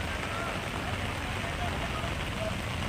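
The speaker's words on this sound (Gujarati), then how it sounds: "ધોધમાર વરસાદ જે છે તે વરસી રહ્યો છે અને ભારે પવન" Heavy rain driven by strong wind in Vadodara gives a steady, dense hiss of rain on surfaces that stays even and constant throughout.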